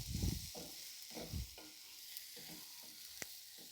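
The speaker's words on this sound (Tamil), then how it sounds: "இப்போ இந்த மீன் செனை முட்டையை நம்ம போட்டு பொறுமையாக கலக்கி விடலாங்க." Fish roe being stirred in a frying pan with spices, soft scraping strokes of a spoon over a gentle background sizzle, quiet and close with no talk.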